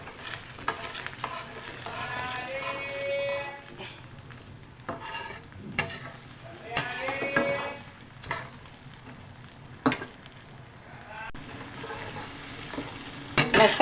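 Steady sizzling of garlic and ginger frying in a pan, with stirring and occasional clinks of a utensil against metal, close up and continuous.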